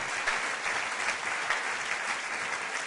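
Applause from the audience at a Spanish Socialist party political rally, continuous broad clapping at moderate level with a slightly rhythmic pulse, no voices over it.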